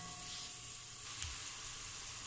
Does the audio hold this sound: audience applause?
no